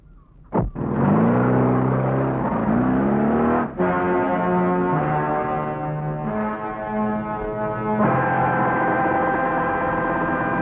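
A car pulls away in a Hindi action film, its engine rumbling loud and close, then revving through rising gear tones with a couple of sharp breaks before settling into a steady drone.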